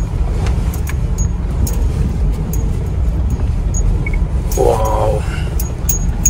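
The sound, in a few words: car off-roading through mud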